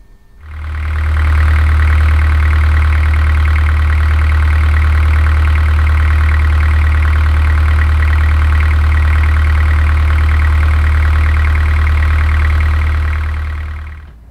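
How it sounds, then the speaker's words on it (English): A newly installed narrowboat engine fires up and settles into a steady, loud low idle with a constant throbbing drone that holds unchanged before cutting off at the end. "let's get the engine running"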